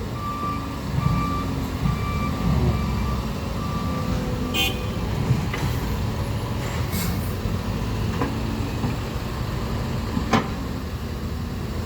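A large truck backs up with its reversing alarm beeping in a steady, repeating pattern over a continuous low engine rumble, with other traffic noise around it and no one talking.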